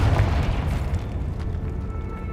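The Confringo fire spell explodes in Hogwarts Legacy with a heavy, booming blast that rumbles loudly and then fades over a couple of seconds.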